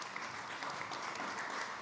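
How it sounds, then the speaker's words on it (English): An audience at a food panel event claps for a speaker, a dense, even wash of many hands applauding without pause, distant and steady throughout. "Give him a round of applause"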